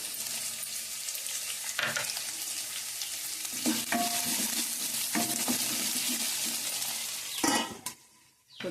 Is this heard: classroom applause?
no